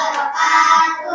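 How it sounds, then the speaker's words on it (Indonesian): Short burst of hand clapping from a classroom of students after presentations, steady and fairly close for about a second with no voices on top. "Oke, tepuk tangan dulu."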